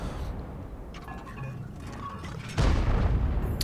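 Artillery in World of Tanks firing blind shots from a French self-propelled gun, with a heavy boom landing late in the clip over a steady background rumble of battle ambience.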